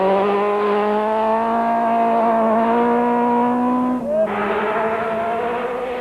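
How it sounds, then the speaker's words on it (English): Rally car screaming along a mountain trail stage, engine note rising steadily through the revs before a sharp gear change and renewed acceleration, loud and close. "Ralph Chadwick and Mike Constable, their gearbox having been replaced, re-enter the Class B battle"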